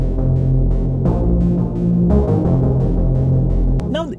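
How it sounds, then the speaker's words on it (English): A stereo sub bass synth patch with unison voices plays a loud, sustained low tone with throbbing pitch changes, followed by a brief rising sweep at the end. "Let's say you have a cool bass sound like this."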